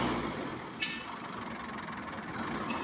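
A used 12-foot Tokin vehicle's engine runs at idle, a steady close rumble with an even mechanical texture and no revving, continuous for the whole stretch.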